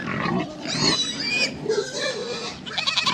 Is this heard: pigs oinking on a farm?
yes